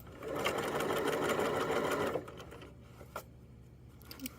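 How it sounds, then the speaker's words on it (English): A sewing machine runs steadily for about two seconds while stitching down a pajama pants waistband with elastic inside, then stops, leaving faint handling clicks in a quiet room. "and then sew down, making sure that my elastic is always out of the way"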